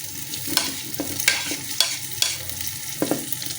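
Tomatoes tipped into masala frying in a pan for a mixed vegetable aloo matar mongre dish, then stirred with repeated scraping strokes over a steady sizzle, close and alone.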